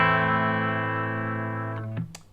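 A Fender Stratocaster's bridge pickup through a clean amplifier, a sustained chord ringing bright and steady for nearly two seconds before being cut off with a couple of short string scrapes, heard alone.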